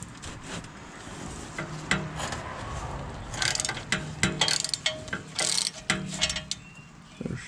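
A ratchet wrench torques the oil drain plug on a Porsche GT3 991, giving quiet clustered clicking and ratcheting bursts that grow busier toward the end, with faint rubbing and handling noises close by.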